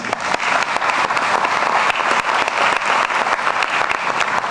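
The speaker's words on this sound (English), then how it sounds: "We presidents love spontaneous applause, so please bring it." Sustained applause from a large audience at a university doctoral commencement ceremony, dense and steady throughout with scattered sharper claps and no speech over it.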